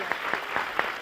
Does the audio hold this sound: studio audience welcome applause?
yes